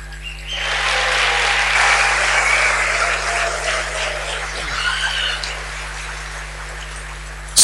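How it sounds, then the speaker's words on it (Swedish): Applause for a metal band at a classic metal concert rises from a crowd, sustained clapping with scattered whistles and cheers that swells then gradually thins toward the end. "Ge dem en stor applåd"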